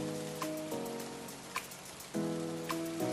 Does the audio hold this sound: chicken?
no